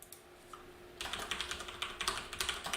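Keys clatter on a computer keyboard as a password is entered, a quick run of close, crisp taps starting after a second of near-quiet room tone.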